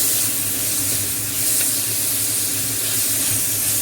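Onions and tomatoes for a Chettinad chicken curry sauté in a pan, giving a continuous close hiss and sizzle with a faint low bubbling underneath.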